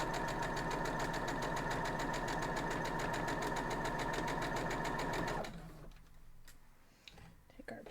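A sewing machine stitches straight along the line of an art square quilt block, running steadily and close for about five seconds before stopping, followed by quieter handling noises.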